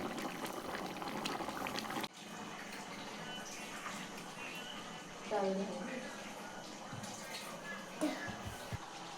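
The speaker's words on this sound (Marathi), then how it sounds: "काल बघा उकळी किती भारी आली" Water bubbles and churns at a rolling boil, a continuous gurgling hiss close by, with faint voices and a few clinks in the background.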